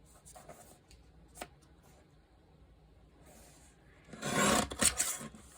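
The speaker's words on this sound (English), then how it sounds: "let me pull my little trimmer over here and take that 1/4 inch off" A small paper trimmer slices a quarter inch off a sheet of paper or card in one short, close rasping stroke near the end, after quiet handling and a faint earlier tap.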